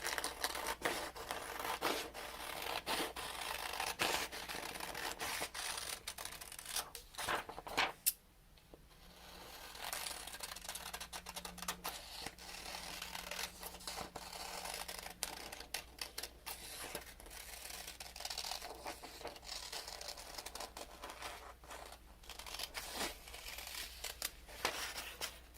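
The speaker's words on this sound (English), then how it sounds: "And then you just cut that out." Scissors snip steadily through paper while a shoe pattern piece is cut out, close crisp cuts and rustling paper repeating over about twenty-five seconds, with a brief quiet gap partway through.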